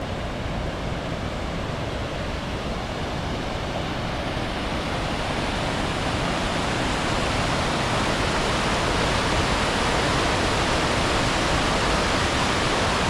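A steady, loud roar of rushing water from a mountain waterfall along Romania's Transfăgărășan road, heard up close, constant and unbroken with no voices.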